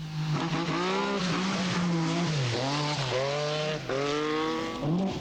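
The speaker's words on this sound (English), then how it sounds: "Marco Elaine has chosen to drive a Stratos for this event." Lancia Stratos rally car on a tarmac stage, its engine note loud and close, holding a steady drone before falling and climbing again through several gear changes and revs.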